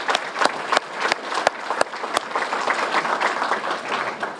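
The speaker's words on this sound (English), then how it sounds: "let's give them a round of applause for everything that they've done to prepare this event" Audience applause at a Bradenton Kiwanis Farm City Week gathering, steady broadband clapping from a room of people with a few sharp louder claps standing out, sustained throughout.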